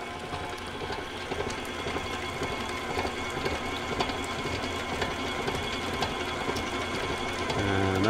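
Currant cheesecake batter being mixed with an electric mixer, a steady whirring motor drone running continuously with slight rattling, close and moderately loud, no talking.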